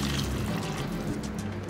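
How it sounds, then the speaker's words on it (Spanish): Boiling water poured from close by into a pot of beef shank soup, a steady, fairly loud liquid rush lasting under two seconds with no talking. "aquí ya tengo agua hirviendo y le voy a poner un poquito"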